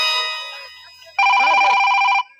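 A mobile phone rings nearby with a bright, steady electronic ringtone. A softer tonal chime fades out, then a loud, sustained ring plays for about a second before cutting off.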